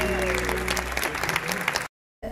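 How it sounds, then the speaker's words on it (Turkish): An audience at a Turkish singer's concert claps as a performer is welcomed onstage, a loud, dense burst of applause that cuts off abruptly into silence before a faint return. "Gülay Sütçü kocaman alkışlarla davet etmek istiyorum"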